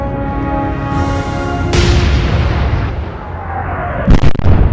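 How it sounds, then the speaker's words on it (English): Naval turret guns firing in the Atlantic Fleet video game: a loud booming blast that rolls into a long rumbling decay, with a second sharp crack and burst of explosions near the end. "keeping up the fire from our pretty much one and only aft turret"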